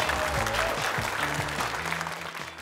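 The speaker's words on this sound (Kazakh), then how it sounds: "Шапалақ ұрып қояйық" A studio audience at a televised game show applauds steadily, a dense wash of clapping over music playing underneath.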